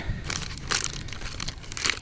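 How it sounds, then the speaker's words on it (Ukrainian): A plastic bag holding ready-made feeder fishing rigs crinkles and rustles close up, a few sharp crackling bursts between softer handling rustles, with no talking. "Тут я склав в один пакет готові монтажі."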